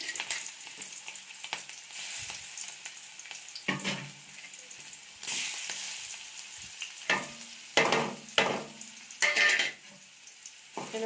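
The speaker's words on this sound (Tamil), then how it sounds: "இது நல்லா ஃப்ரை பண்ணிக்கலாம்." Prawns crackle and sizzle in hot oil in a kadai, with stirring scrapes and sharp spattering bursts growing busier toward the end, close up and without speech.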